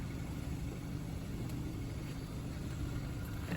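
A car engine rumbles at a steady low idle from inside the cabin, a continuous muffled drone with no talk, ending in a brief louder bump.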